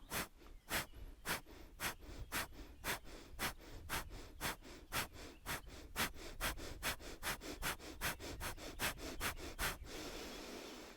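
Rapid pumping breaths through the nose during a yoga breathing exercise, about twenty-five sharp evenly spaced sniffs in a steady rhythm, close and quiet, ending in a softer breath.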